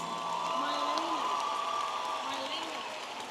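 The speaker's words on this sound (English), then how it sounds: "a round of applause for the master's graduates from the College of Arts and Science" A crowd at the Texas A&M International University spring 2019 commencement applauds the master's graduates of the College of Arts and Science, a steady, dense wash of clapping with scattered cheers and voices mixed in throughout.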